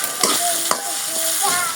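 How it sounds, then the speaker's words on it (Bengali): Chopped onion, tomato and green chili fry in hot oil, giving a steady close sizzle with a few brief stirring clatters over about two seconds. "তেল গরম হয়ে গেছে, দিয়ে দিব পেঁয়াজ কুচি।"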